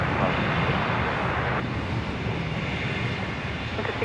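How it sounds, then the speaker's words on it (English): A Jetstar airliner departs Brisbane airport, its engines a broad, steady roar that holds evenly throughout with no speech. "I think that was the Jetstar that just departed there"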